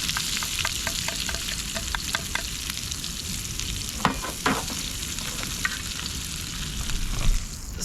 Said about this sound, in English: Just brown off these onions next.